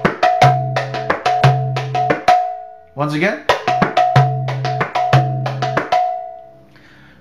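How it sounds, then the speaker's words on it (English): A mridanga drum plays a Tihai built from cycles of Tere Kheta Ja: fast, sharp strokes with deep resonant hits, cut midway by a brief spoken phrase before the pattern resumes and rings out. "So the whole Tihai is two cycles of Tere Kheta with Jas attached and then one cycle without the Ja."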